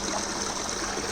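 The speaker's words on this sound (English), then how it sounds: "You've also got this little waterfall over there." Hot tub waterfall and water jets running on a 2019 Hot Springs Rhythm spa, a steady, close, continuous splashing and gushing of water with no pauses and no voices.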